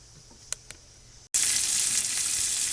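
Breakfast sausage patties dropped into a hot pan, with a couple of faint taps, then a sudden loud, steady sizzle of browning meat filling the rest.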